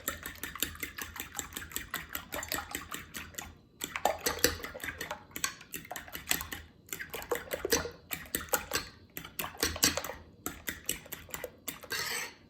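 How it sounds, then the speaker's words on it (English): Three eggs being whisked in a bowl, a fast, steady run of close clinks and scrapes that keeps going with only brief pauses and no talking. "So here we're mixing the 3 eggs"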